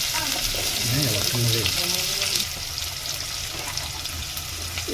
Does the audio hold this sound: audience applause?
no